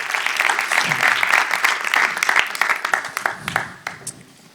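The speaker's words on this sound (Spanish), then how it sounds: "Dale un aplauso al Señor." A church congregation applauds for the Lord during a worship service, dense clapping that builds and then thins into scattered claps before fading, with some voices mixed in.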